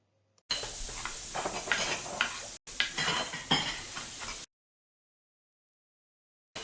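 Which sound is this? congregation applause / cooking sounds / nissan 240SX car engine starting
cooking sounds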